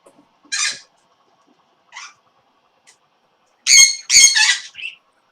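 Loud, harsh squawks from pet birds indoors burst out in irregular clusters, a few quieter calls between them, with near silence in the gaps.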